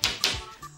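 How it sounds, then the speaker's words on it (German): Two quick, light taps of a magic wand on a box, sharp clicks about a quarter second apart, close and fairly quiet. "Nun, einmal mit dem Zauberstab klopfen."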